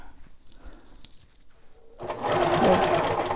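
A sewing machine stitches lined fabric, starting after a quiet stretch with faint handling noises and then running in a loud, rapid, even mechanical chatter up close.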